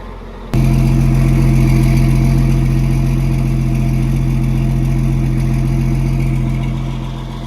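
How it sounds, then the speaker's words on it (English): A tractor engine fires up on a chilly 40-degree morning, starting abruptly and settling into a loud, steady, close low idle that holds throughout and fades slightly at the end. "That's a good starting tractor."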